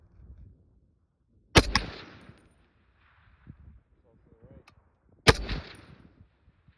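Two sharp, loud M1A rifle shots fired at a target outdoors, each a sudden crack followed by a short decaying echo, spaced several seconds apart, with quiet background between.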